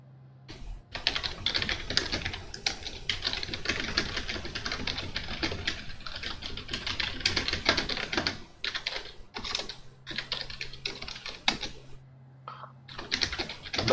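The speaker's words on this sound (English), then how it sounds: "That is some very fast typing." Very fast typing on a computer keyboard, a dense, rapid patter of close key clicks with brief pauses, fairly quiet and continuous with no talk.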